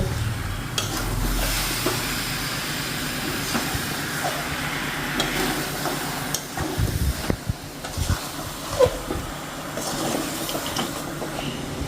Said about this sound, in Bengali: এবার মাংসটা দিয়ে দেবো। এবার দিয়ে নেড়ে নেব।